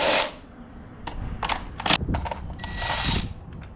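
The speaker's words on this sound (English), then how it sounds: "first thing you gotta do is take these bolts out." Close-up mechanical clicks, ratcheting and metallic taps as 10mm bolts are taken out on a 2014 Honda Accord during a tune-up, uneven and bursty with brief pauses between actions.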